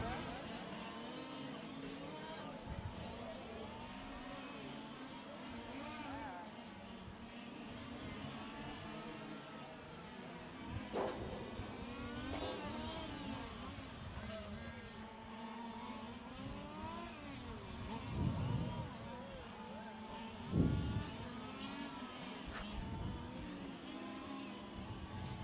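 Fifth-scale gas RC race cars racing around a track during world championship qualifying, a constant buzz of small two-stroke engines rising and falling as cars pass, with an announcer talking over the PA.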